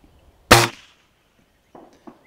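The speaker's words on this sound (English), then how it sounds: "it's actually shooting all three of these pellets very nicely" A single sharp crack from an air rifle firing a pellet, loud and close, followed by quieter mechanical clicks of handling.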